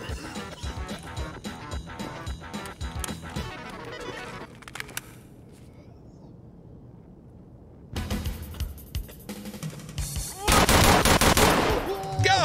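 Rapid automatic gunfire from Escape from Tarkov comes in dense bursts through the first half, drops to a quieter lull, then returns with loud, sharp volleys toward the end.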